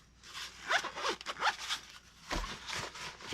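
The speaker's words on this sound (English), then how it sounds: "That's pocket number 1." The zipper on a pocket of a get-home bag is pulled in several quick, close strokes, each a crisp rasping zip, with short pauses between them and no talking.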